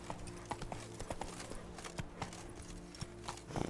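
Hooves of a horse clip-clopping at a steady gallop in The Witcher 3, a fast repeating rhythm of close, sharp impacts with low game music beneath.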